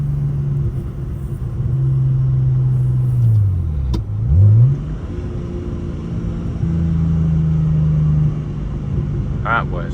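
A BMW 335i with a big single turbo and anti-lag pulls hard in second gear, engine drone rising steadily, dipping briefly at a shift-like break near the middle, then climbing again, loud and close from inside the car.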